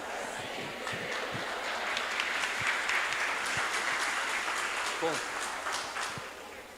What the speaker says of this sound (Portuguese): Se foi para Jesus, aplauda melhor, porque Ele merece toda a honra, toda a glória